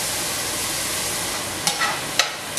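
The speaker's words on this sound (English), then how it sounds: "I'm going to saute those mushrooms in the pan, just to extract the moisture out of mushroom." Minced button mushrooms sauté in a hot pan, giving a steady close sizzle with a few sharp scraping stirs near the end.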